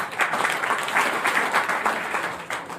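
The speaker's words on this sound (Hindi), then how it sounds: "क्या बात है, तालियां होनी चाहिए सबके लिए।" An audience claps in a steady, moderately loud round of applause that carries on for a few seconds with no pause.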